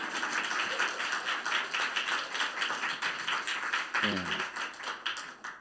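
A congregation at a Sunday church service gives a round of dense, steady applause lasting several seconds, with a brief voice rising through it near the end.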